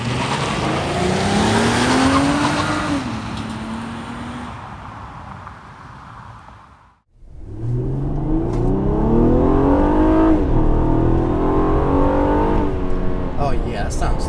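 A 2017 Honda Accord Touring's VTEC V6 revs and accelerates loudly while driving, pitch climbing through gear shifts, briefly dropping off before surging again; a voice speaks over it.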